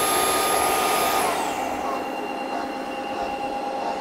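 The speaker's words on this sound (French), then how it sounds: "l'auto-nettoyage est en train de se faire" An Ultenic AC1 Elite wet vacuum cleaner running its cold-water self-cleaning cycle with the brush spinning, a loud continuous whirring hum with a high whine that drops away after a second, steady and close.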